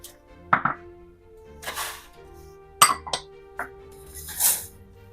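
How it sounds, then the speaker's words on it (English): Cornflakes, coconut and whole wheat flour being mixed in a bag: a few separate clinks and rustling bursts spaced over several seconds, close by and with no one talking. "The recipe wants us to mix them together in a bag."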